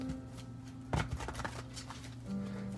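A deck of Magic: The Gathering Kaladesh cards is shuffled close by, quiet riffling and tapping bursts over a faint background hum, with no talking.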